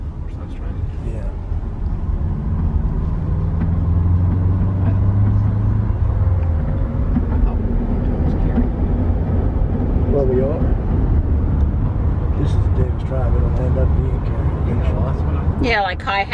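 A Chevy Bolt electric car cruising in full regenerative braking with the accelerator released, giving a steady low road and cabin rumble throughout, with people talking inside the car over it.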